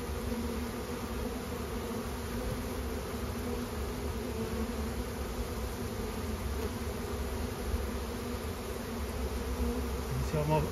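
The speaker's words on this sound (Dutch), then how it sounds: "De meeste bijen gaan langzaam de kast in." A swarm of honeybees drones in a steady, dense hum as it settles and slowly moves into a wooden beehive, the buzzing continuous and close throughout with no voices.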